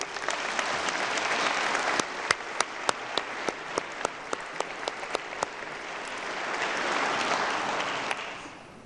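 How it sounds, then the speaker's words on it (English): Steady audience applause fills a hall during the 2020 West Virginia State of the State address, a dense wash of many hands with a few sharp, louder claps standing out near the middle before it slowly fades. "you got to give them a big round of applause too"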